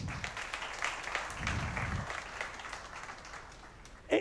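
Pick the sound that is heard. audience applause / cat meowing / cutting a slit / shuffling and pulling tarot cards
audience applause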